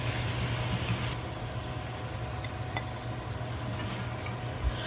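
Paneer cubes sauté in hot oil in a pan for a paneer butter masala, giving a faint, steady sizzling hiss with a few soft clicks and pops.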